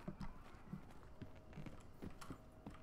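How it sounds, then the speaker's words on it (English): Hooves clip-clop from a horse in a video game, a quick uneven run of soft thuds close by over a steady hum, with no talking. "A horse making noise."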